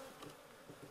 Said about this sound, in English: There's a decent amount of bees in here.